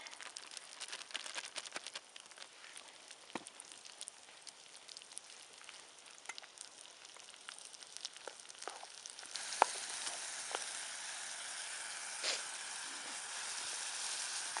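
Chopped vegetables sweat and sizzle in a pan for camp-made spaghetti sauce, a soft steady frying crackle with scattered pops that grows louder and denser partway through.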